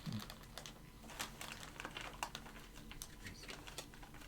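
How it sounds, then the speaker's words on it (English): Silica playing cards for the board game War With the Evil Power Master being shuffled and handled, soft rapid papery ticks and flicks in an irregular patter, close but quiet, with no talking. "As you shuffle the cards"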